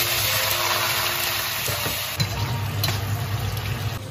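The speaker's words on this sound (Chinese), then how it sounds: "好了，糖色已经冒泡了" Sugar caramelizing in a wok for braised pork, giving a continuous close hiss and bubbling sizzle with a slight rise in intensity near the end.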